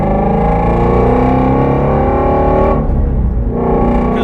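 A 2020 C8 Corvette's 5.5-liter flat-plane-crank V8 revs loudly and close, holding a high, raspy pitch, dipping briefly, then climbing back up.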